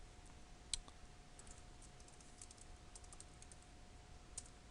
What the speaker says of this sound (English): So we'll type in root and then the password that we put.